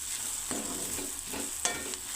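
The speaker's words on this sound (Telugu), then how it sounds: "కొత్తిమీర కలిపేస్తున్నాను." Coriander is stirred into mutton keema frying in a pan, a steady close sizzle broken by repeated scraping strokes of the spoon.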